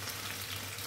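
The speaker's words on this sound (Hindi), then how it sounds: "फ्राई पैन में ऐसे रखते रहें। और इसको मीडियम आंच पर आप पकाएं।" Spicy potato fritters sizzle in a frying pan over medium heat, a steady, close hiss of oil with no voices.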